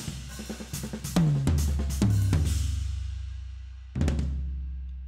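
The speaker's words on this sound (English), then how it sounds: "So we have a rack tom, floor tom, and floor tom 2." Recorded acoustic drum toms for industrial rock, a rack tom followed by two floor toms, struck one after another in a few hits with deep pitched decays, close and loud, with no other sounds.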